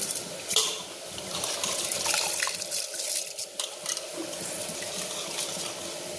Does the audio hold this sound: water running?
yes